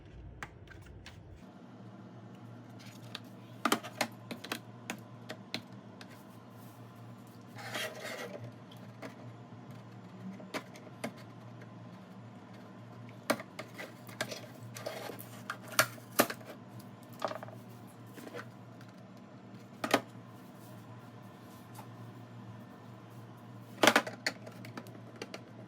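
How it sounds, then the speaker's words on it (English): A sticker being peeled off the plastic housing of a Eufy RoboVac base station, heard as faint, scattered scratchy rasps and small ticks over a low steady hum, close by and quiet. "We're now going to peel the sticker off"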